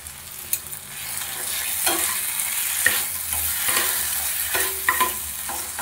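A spatula scrapes and stirs fried potato filling in a hot pan, with repeated clicks and knocks over a steady sizzle and no talking.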